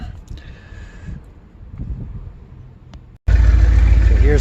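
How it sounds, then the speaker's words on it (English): A C4 Corvette engine idles while warming up, a low steady rumble that starts quietly under background sounds and then turns loud and close partway through. "So here's the car running."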